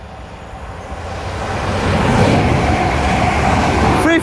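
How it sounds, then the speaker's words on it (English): A Class 350 Desiro electric train passes through Euxton Balshaw Lane station, a broad rushing roar that builds steadily and holds loud for the remainder, with no talk over it. "So passing through, well though, is a 350 Desiro bound for Edinburgh Waverley."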